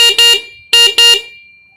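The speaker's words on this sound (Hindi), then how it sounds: "अब हम हारन बजाएंगे बटन से।" A 70cc motorcycle's electric horn sounded by its button in three loud, steady honks: two short blasts in quick succession, a pause, then a longer blast that fades out.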